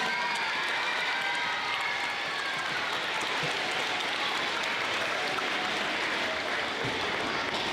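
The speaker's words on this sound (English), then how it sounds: "Let's give our 3rd grade teachers a big round of applause." Audience at a school awards ceremony applauding third grade teachers, a dense sustained wash of clapping from a full crowd, loud and even from start to finish.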